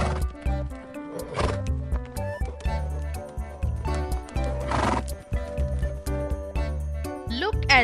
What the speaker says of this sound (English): And horse says nay nay.